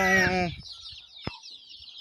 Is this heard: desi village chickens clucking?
yes